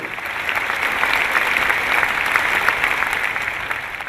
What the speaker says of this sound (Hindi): देखिए इनके लिए तालियां क्यों बज रही है